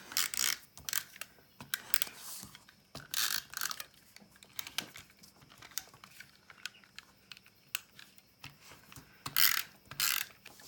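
A tape runner adhesive dispenser clicking and ratcheting in short bursts as it lays tape on paper, close and quiet, with gaps between strokes and no talking.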